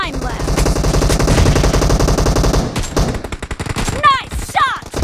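Rapid automatic gunfire in the PUBG battle royale game, a dense burst of loud shots for nearly three seconds, then scattered single shots and sharp ricochet-like whistles near the end.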